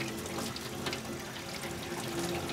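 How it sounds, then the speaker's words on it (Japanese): Hot water being poured out of a pot of boiling giant gyoza, a steady watery rush like a running tap, continuous and close for a couple of seconds, with no talking. "一旦お湯を捨てます。"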